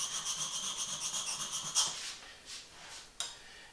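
A blade honed freehand on the coarsest sharpening stone: a quiet run of quick, even rasping strokes, then a few slower, separate scraping swipes, close and alone.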